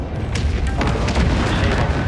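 Kinetic weapon fire pounding a fleet in Homeworld 3 space combat, a continuous rumbling barrage of dense booms and low impacts with no pause.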